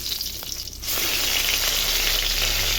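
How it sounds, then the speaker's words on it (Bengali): Fish frying in oil for a bata fish curry: a soft crackle that suddenly swells into a loud, steady sizzle, close by and uninterrupted. "মাছটা ভেজে নিই, তারপরে শিঙি মাছটা ভাজবো।"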